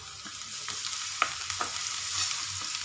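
Onions browned in oil sizzle loudly in a pan with ginger-garlic paste, stirred by a spatula that scrapes in quick bursts over a constant frying hiss.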